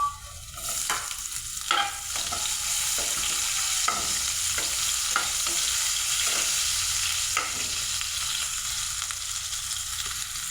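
Onion fries in a pan with a steady sizzle while a utensil stirs it, scraping the pan in regular strokes roughly every second.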